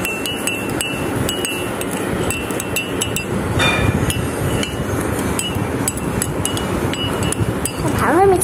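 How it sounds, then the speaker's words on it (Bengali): Sugar being mixed in a bowl for vermicelli (semai) gives a steady run of close clinks and scrapes, with a few louder knocks near the end. "এখানে এখন আমরা এটা মিক্স আপ করবো।"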